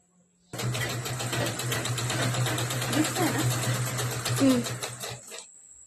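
A sewing machine stitches a fabric chair cover, a steady close mechanical whir with rapid needle ticking for about five seconds before it stops, with a voice briefly heard over it.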